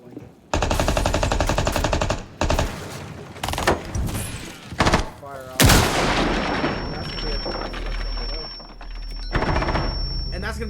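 Gunfire rings out in a Rainbow Six Siege esports match: loud bursts of rapid automatic fire and single sharp shots in uneven clusters, followed by a duller crack and ringing, with caster commentary running over it.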